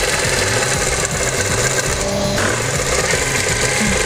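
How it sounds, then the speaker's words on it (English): A sewing machine stitches two pieces of shiny fabric together with a loud, fast mechanical rattle. It keeps going steadily and close up, with only a brief slowdown partway through. "Keep checking every now and then that you are sewing the 2 of them together."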